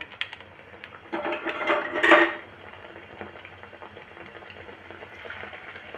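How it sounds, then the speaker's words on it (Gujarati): Boiled potato smiley snacks sizzle softly as they deep-fry in hot oil. Utensils clink against the pan in a brief louder burst early on, and then a steady low bubbling continues. "બધા સ્માઈલી આપણે તળી લઈએ"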